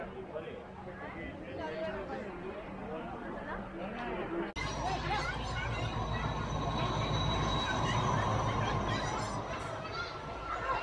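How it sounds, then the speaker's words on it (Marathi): The Mandovi Express rolls into a Konkan Railway station platform, a loud, close rumble and rattle of wheels and coaches building after a few seconds, with people chattering nearby throughout. "तर मित्रांनो, स्टेशनला आता आपली ट्रेन आलेली आहे."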